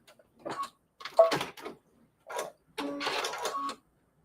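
An embroidery machine stitching a fabric bowl cozy runs in short separate bursts of rapid mechanical whirring, with pauses between them and a longer run at the end.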